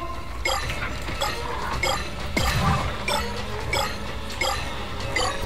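Chittering, squealing cries from monkey enemies in the horror game Dark Deception, a short rhythmic series of calls over a low droning background, with one louder thud midway.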